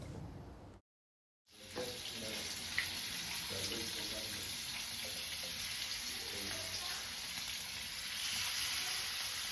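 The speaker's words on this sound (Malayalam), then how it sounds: "ഈ സമയത്ത് നമുക്ക് നേരത്തെ മാറിനേറ്റ് ചെയ്ത് വെച്ച ഫിഷ് ഒന്ന് ഫ്രൈ ചെയ്തെടുക്കാം കേട്ടോ" Marinated fish fries in two to three tablespoons of oil over a medium flame, a steady close sizzling hiss that drops out briefly near the start and then carries on evenly.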